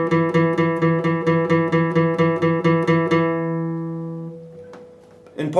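Guitar plays the opening part of Riff A, a rapid evenly picked run of repeated notes that shifts pitch partway and then rings out, close-miked and alone, with a brief scrape near the end.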